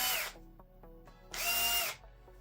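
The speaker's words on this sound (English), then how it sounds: "I need to mark and drill some guidance holes." Small power drill boring guide holes for new pads on a Genius speaker: two short whirring bursts close up, separated by a quiet pause with faint clicks.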